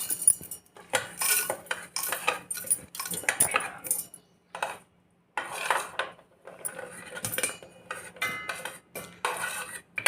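Repeated rattling clatters as handfuls of hard nuts drop into a mixer jar, in uneven bursts with short pauses and no talking.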